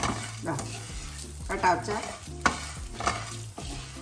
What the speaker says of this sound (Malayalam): അല്ലി പൊട്ടി തുടങ്ങിയേ